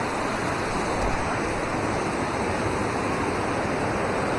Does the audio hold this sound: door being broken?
no